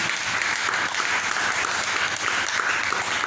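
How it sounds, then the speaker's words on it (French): A church congregation applauds steadily during a French-language worship service, dense sustained clapping with no break and no talk over it. "Applaudissons notre Dieu."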